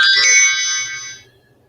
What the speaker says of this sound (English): I'm sorry, that was my phone.